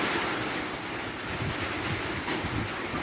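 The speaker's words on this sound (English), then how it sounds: "Started pouring the rain on us." Heavy rain pours outdoors around a workshop car project, a dense, steady, close hiss of broadband noise with no voices.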